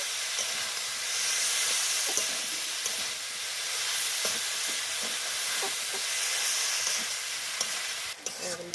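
Banana flower (mocha) sautés with prawns in a pan. A constant close sizzle and hiss runs under repeated scraping stirs, and no one speaks.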